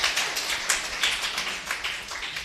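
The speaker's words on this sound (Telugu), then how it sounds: "చప్పట్లు కొడతారు." A congregation at a Sunday worship service clapping their hands together in a steady run of sharp, rhythmic claps that keeps going throughout.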